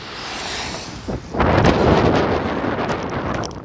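Cold wind blows outdoors in London, a broad rushing roar that swells loudly after a quieter start and keeps buffeting the microphone without a break.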